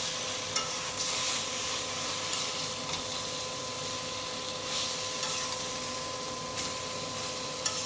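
Fish is stirred into a spice masala in a pan over a continuous steady sizzle, with faint scraping of the stirring spoon and occasional clinks, and no talking.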